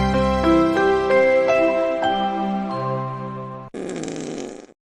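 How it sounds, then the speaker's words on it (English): Comedic fart noise sound effects play during a talk show, a series of buzzy, tonal blasts of varying pitch in quick succession, ending in a short rough burst, loud and close with no talking over them. "now there's fart noises"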